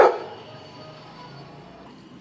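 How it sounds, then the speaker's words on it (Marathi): A golden retriever gives one sharp, loud bark right at the start, which quickly fades into quiet background hiss with no further barking. "तो बघ डॉग समोर"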